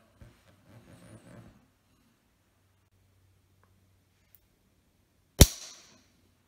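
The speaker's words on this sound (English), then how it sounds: "we'll just put that there to absorb the firing pin strike" Firing pin of a .310 Martini Cadet rifle snapping onto a piece of brass: one sharp, loud, close metallic strike after faint handling sounds and near silence.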